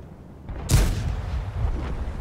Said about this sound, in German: Ich verschieße, er schießt auch daneben.